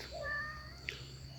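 A cat at a temple meows softly a couple of times, faint and somewhat distant over quiet background hum, with a brief click near the end.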